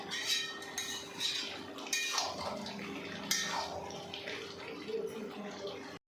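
A metal spoon stirs garam masala into jackfruit curry in a pan, scraping and clinking in a steady stream of close clatter, with a faint background hum.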